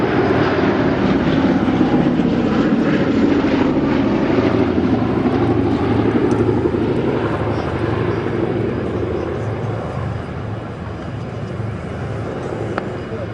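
A propeller-driven wartime bomber, like a B-17 or B-24, drones past at an air show at Yeovilton, a loud, rumbling engine roar that swells and slowly fades.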